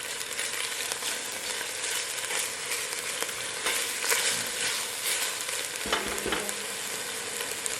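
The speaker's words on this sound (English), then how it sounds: "You can hear that sizzle." Onions and peppers sizzle in a pot, a dense steady hiss of frying with occasional clinks and scrapes of stirring, close and continuous with no talking.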